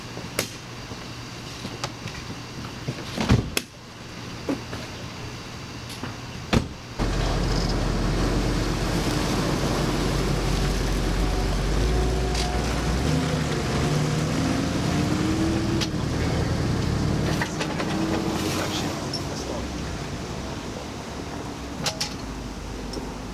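An Audi Allroad car drives along with a steady low road rumble and wind noise. The first few seconds hold only scattered clicks and bumps, then the engine note rises and holds, with some shifting tones.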